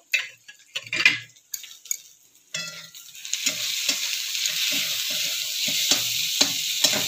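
Ginger-garlic paste frying in hot oil for a fish curry, a steady sizzle that builds after a few early stirring clatters, with utensil scrapes and taps recurring through the frying.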